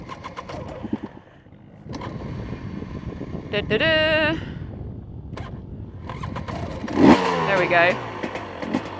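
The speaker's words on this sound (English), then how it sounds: "So I'm going to start the engine." A motorcycle engine starts and revs briefly, rising in pitch in short bursts, heard mixed in with someone talking close by.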